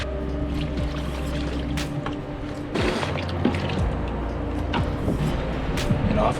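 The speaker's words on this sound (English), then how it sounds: "Getting towards the end of the bucket now, so tip that in. Give that a good rinse out." Bucket of material and water tipped into a high banker while prospecting for gold, a steady mechanical pump hum with splashing, pouring water and rattling gravel, heard up close with no talk.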